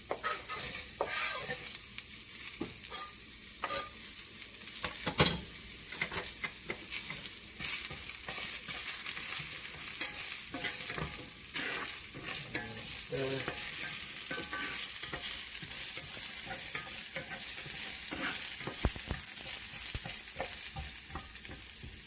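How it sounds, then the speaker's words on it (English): Garlic and onion fry in olive and coconut oil in a cast iron pan for a vegan Panang curry, with a continuous sizzle broken by repeated scraping stirs and clacks close by. "I'm using olive oil and a little bit of coconut oil. That's going to be fast burning, so tossing my garlic and onion first."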